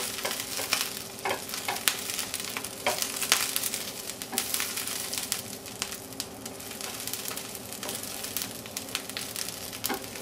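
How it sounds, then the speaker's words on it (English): Kale sautés in a pan with a steady close sizzle and crackle, broken by frequent scraping and tossing sounds, with no talking. "start adding the kale."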